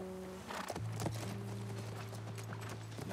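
Horse hooves clip-clopping in The Last of Us Part I, a steady walking rhythm of hoof strikes heard fairly close over a low sustained game ambience and music tone.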